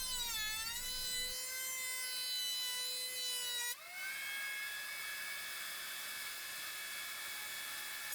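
A power planer takes a wooden floating shelf down to its final 1 3/4-inch thickness, producing a loud, sustained high whine whose pitch dips and then shifts midway as the cut loads the motor.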